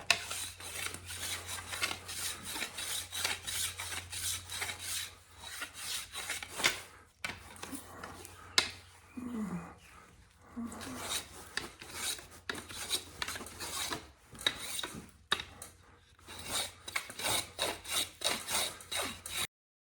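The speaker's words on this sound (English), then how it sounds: "So we're going to do a little planing. We're going to round this off." A hand plane shaves wood to round off a jig part, in repeated rhythmic rasping strokes with brief pauses between runs, close and moderately quiet, with no talking.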